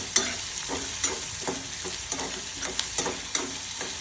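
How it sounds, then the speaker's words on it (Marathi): Onion with garlic paste and cumin frying and being stirred in a pan until reddish, a constant hiss of sizzling broken by a regular series of scraping stirring strokes, close and fairly quiet. "लसणाची पेस्ट टाकायची, कांदा टाकायचा, कांदा लालसर होईपर्यंत परतायचा।"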